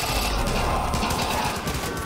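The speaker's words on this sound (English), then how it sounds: "This is the Tech 9. This is one of my most favoritest SMGs ever." The Tec-9 submachine gun fires in the Far Cry video game as a dense, unbroken burst of rapid shots that runs loud and close for about two seconds.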